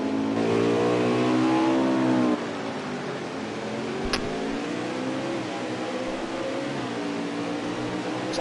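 Race cars roar around Sonoma in a racing video game, a loud revving engine whine rising and shifting pitch, then settling into a steadier drone as the cars pass.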